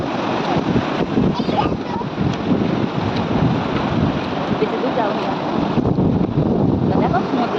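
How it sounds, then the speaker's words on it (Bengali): Sea waves break on the beach at Mandarmani as a continuous roar of surf, heavily mixed with wind buffeting the microphone, while people talk nearby. "এই সমুদ্রের ঢেউ"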